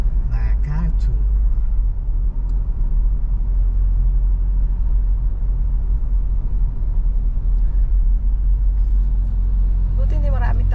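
Road traffic rumbles along MacArthur Highway in the Philippines, a steady low drone of passing cars and heavier vehicles heard close by, with faint voices now and then.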